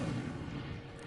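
Incendio fire spell from Hogwarts Legacy bursting out in one short, loud whoosh of flame that lasts about a second, dense and booming, with no talk over it.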